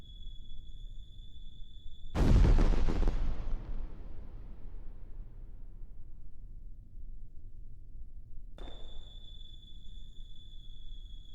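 Strobe trail firework effect in Kerbal Space Program: a loud booming burst that crackles and fades over several seconds, followed later by a second sharp pop, with a steady high tone running underneath.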